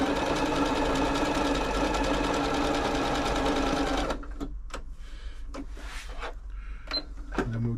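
A Janome Atelier 6 sewing machine hums loudly and steadily as it stitches at speed, then stops, leaving a few scattered clicks and mechanical taps close by.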